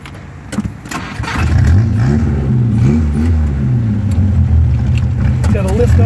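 A 1958 Morgan Plus Four drives down the road, its engine rising in pitch as it accelerates through the gears, loud and close, with cabin rattle and faint voices.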